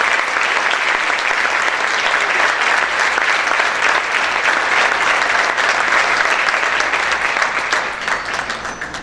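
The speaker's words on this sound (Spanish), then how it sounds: "Vamos a aplaudir fuerte al Señor." Loud, sustained applause from a church congregation during a sermon, dense clapping filling the space for the whole stretch and tapering slightly at the end.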